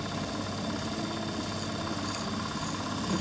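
Metal lathe spinning a small roof part for a garden railway model while a file bevels and rounds its rim, giving a steady, dense mechanical whir with a gritty scraping texture throughout, fairly close and continuous.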